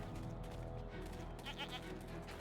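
A goat bleats in the video game Jade Empire, a wavering cry set against a steady, dense background of game sound and music.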